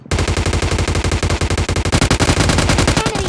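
Rapid automatic gunfire from inside a building in the PUBG Mobile Lite game, a loud, steady stream of close-range shots sustained throughout with no talk.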